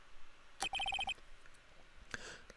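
A phone ringtone from the Ace Attorney game chimes as a quick run of six identical beeps, followed moments later by a fainter tonal blip, over a quiet background.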